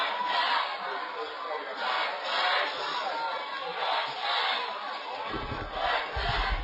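Crowd of home fans at Spartan Field cheering on the Lions during a high school football game, a steady broad roar swelling and falling in waves, with a few louder shouts rising above it near the end.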